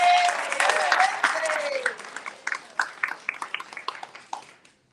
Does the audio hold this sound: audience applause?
yes